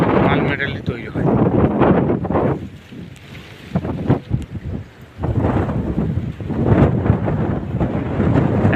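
Strong gusting wind during Cyclone Remal, buffeting the microphone in loud rumbling surges that drop briefly and return, with a voice speaking at times.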